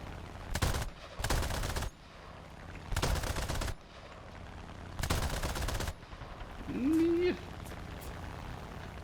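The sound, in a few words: machine gun fire from video game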